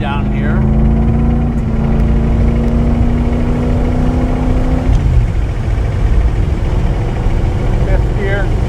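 A 1965 Ford GT40 Mk V engine drones loudly and steadily as the car drives along a winding road, its pitch falling midway as the gears change.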